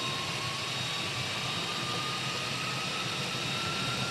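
Cessna Citation XLS jet engines at takeoff power on the runway, heard from inside the cockpit as a steady, fairly faint roar with a thin high whine running through it.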